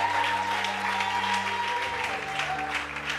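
Church congregation applauding steadily, dense clapping throughout under organ or keyboard chords, close and fairly loud.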